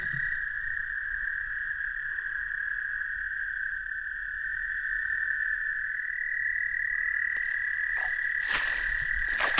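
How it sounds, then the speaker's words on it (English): A single frog, not a spring peeper, calls at night with a steady, unbroken high trill held throughout, joined near the end by brief sharper outdoor noises over a quiet insect-filled background. "There's one frog, but it's not a peeper."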